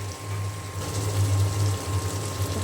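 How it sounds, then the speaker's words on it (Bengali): Water pouring from a tap or jug into a cooking pot holding shrimp and potatoes, about to be boiled; a steady close gushing fill that swells midway, with a faint electrical hum beneath. "পানি দিয়ে দিলাম সিদ্ধ হওয়ার জন্য।"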